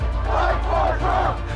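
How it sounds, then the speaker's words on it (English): A crowd gathered at the barricades in front of the Capitol's East Plaza on January 6: a dense, continuous roar of many voices with swelling shouts and chant-like surges. "a crowd is already assembled at the barricades in front of the East Plaza of the Capitol"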